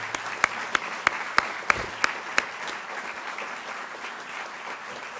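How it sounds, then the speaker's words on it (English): A few sharp, separate claps from an audience honouring the planners of a new university academic and wellness center, fading quickly into quiet room noise. "So let's give all of these special people a big wildcat round of applause."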